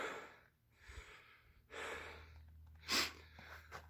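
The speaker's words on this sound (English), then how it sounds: "Oh, I'm breathing hard." Heavy breathing from someone who has just finished a rough climb and a crawl through a hole inside a forest cave: quiet, close breaths in several uneven bursts, including one sharp, louder exhale near the end, with no talk.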